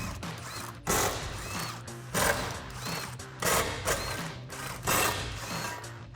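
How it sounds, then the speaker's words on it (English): An impact gun with a 13mm socket removes the bolts from a Camaro's underbody brace. Several short, loud mechanical rattling bursts repeat at roughly even intervals, close by, with a quieter workshop background between them. "So I'll get a 13mm socket on an impact gun to get these off."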